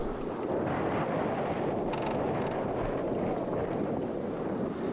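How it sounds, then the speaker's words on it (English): Strong wind buffets an outdoor microphone during a stormy fishing match, a steady loud broadband roar that fills the whole stretch with faint creaks underneath and no talking. "And you can hear the wind."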